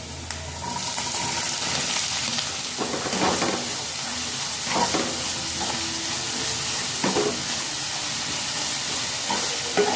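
Two chopped onions frying in hot oil in a home kitchen pan for egg bhurji, a steady close sizzle with a few brief stirring scrapes scattered through.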